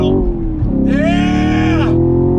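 A Chevrolet Camaro SS 1LE accelerating on throttle on a highway, its loud, deep engine drone climbing in pitch as the revs build for about a second before easing off.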